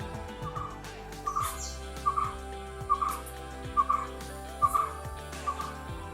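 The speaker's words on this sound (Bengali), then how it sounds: "জঙ্গলের মধ্যে পাখির ডাক শুনতে শুনতে হাঁটাহাঁটি করতেও" A bird call repeats at a steady pace, roughly every second, in a jungle at Kumarakom, Kerala, sounding alone over a constant tonal background.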